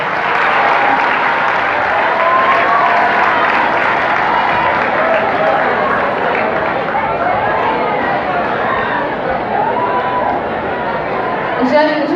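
Audience applauding a student's performance at a school eloquence tournament, steady dense clapping from a crowd throughout with chatter mixed in.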